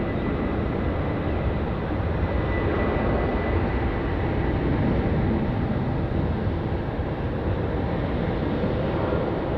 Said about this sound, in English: Here's our third last takeoff of today's show.